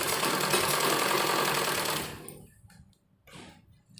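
Sewing machine running steadily for about two seconds while stitching a bell sleeve, loud and close, then stopping and leaving faint handling noises of fabric.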